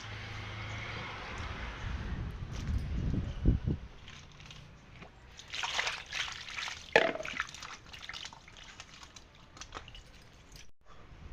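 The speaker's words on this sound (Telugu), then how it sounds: "ఇట్లా నీళ్ళు పడుచుకుంటా జల్లట్లు వేసుకోవాలి" Water poured over small fish while washing them for a village-style fish curry, giving faint, irregular splashes and trickles against a quiet background.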